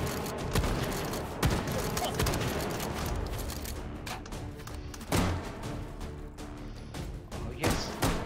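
Rapid video game shotgun blasts and other gunfire fill a chaotic firefight, with sharp, loud reports coming in irregular bursts, heavier booms near 1.5, 5 and 8 seconds.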